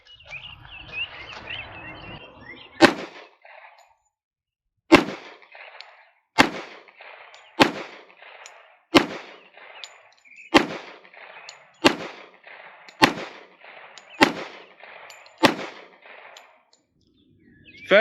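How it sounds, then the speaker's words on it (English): .45 ACP pistol fired five times from a rest with an ADE Delta optic mounted, each sharp, loud report spaced a second or two apart, the string ending in a sixth crack, with light handling noise before the first shot. "We're going to shoot a 5-shot group."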